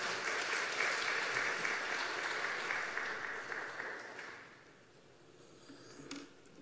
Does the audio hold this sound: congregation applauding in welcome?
yes